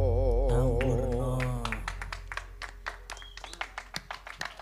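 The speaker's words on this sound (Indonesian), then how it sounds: "Tepuk tangan." An audience at a Javanese wayang or goro-goro stage show breaks into scattered clapping after a held, wavering sung note, with sharp separate claps continuing at moderate distance.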